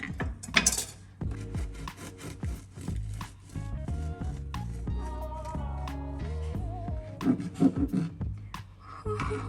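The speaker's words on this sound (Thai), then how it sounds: "แต่เราจะมาหั่นน้องขนมปังก้อนของเรากันนะคะ" Repeated rasping, scraping strokes of a knife sawing through a crusty, freshly baked bread-machine loaf, with crackly crunches and some clinks, close and steady.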